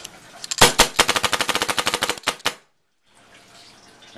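An Invert Mini paintball marker dry-firing without paint: a rapid string of about twenty sharp pneumatic pops in quick rhythm, loud and close, then a pause and a soft hissing tail.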